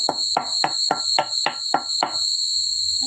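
A cicada-like insect calls loudly and close by with a sustained high buzzing whine, broken by about eight sharp rhythmic pulses before the call settles into a steady drone.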